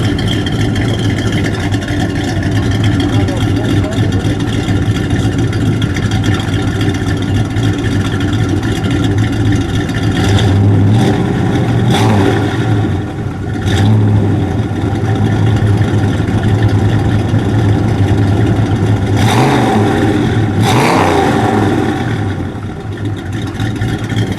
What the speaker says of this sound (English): Press on the brakes when you go in and give it a rev, please.